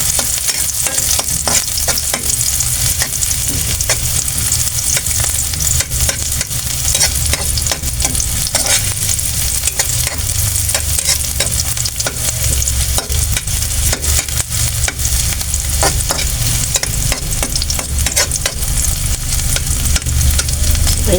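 Garlic and onion frying in hot oil, a loud continuous sizzle with constant stirring and scraping in the pan, heard up close for the whole stretch with no talk.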